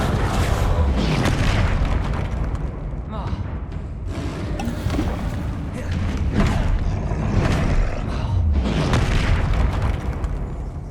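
Confringo blasting spell explosions in the Hogwarts Legacy video game, several loud booming bursts landing in quick succession over dense, continuous game sound.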